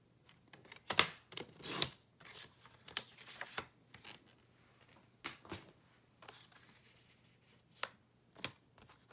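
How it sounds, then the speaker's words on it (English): Card stock is cut in half, producing a series of faint, crisp cutting and slicing strokes at irregular intervals against a quiet background. "I'll cut each one of these in half at 5 1/4 inches"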